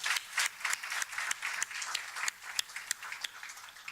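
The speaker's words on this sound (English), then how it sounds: "Can I get a round of applause for all of our speakers?" A workshop audience gives a round of applause for its speakers, dense steady clapping from many hands in a room, fairly even in volume throughout.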